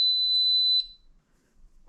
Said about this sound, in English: three quick beeps and then one long beep after that, saying that it cannot arm the system